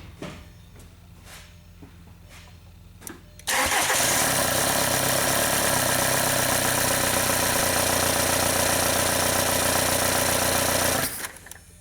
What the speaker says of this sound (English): And the car should start up.